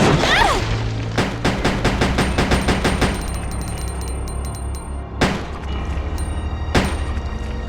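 Claire's pistol in Resident Evil Code: Veronica fires a quick string of sharp, loud shots, then two more isolated cracks later, each ringing out briefly over a low game ambience.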